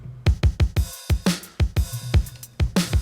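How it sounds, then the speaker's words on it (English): Master drum track from an electronic music production project, punchy kicks and snappy hits in a steady, driving rhythm, loud and clean with no voices. "So we have the master drums, which mainly sound like this."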